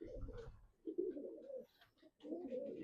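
Pigeons coo close by in soft, throaty rolling phrases, three bursts with brief pauses between them, with no talking.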